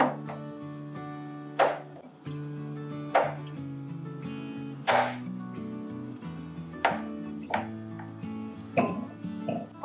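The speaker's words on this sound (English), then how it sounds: "I'm just going to take my soap and cut it into slightly smaller pieces, just so that it's going to melt a little bit easier." A knife slices through a bar of homemade soap, cutting it into smaller chunks; crisp chopping strikes land about every one to two seconds, close and fairly loud, with the blade scraping between cuts.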